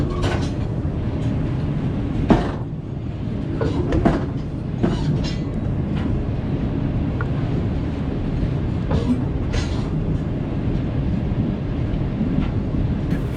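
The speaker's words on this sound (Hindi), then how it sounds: "ट्रेन अभी रुक गई थी और फिर ये दोबारा हरकत में आ गई है" Shalimar Express train rolling along and picking up speed, a constant heavy rumble with scattered rattling clacks and bangs, close and loud throughout with no speech.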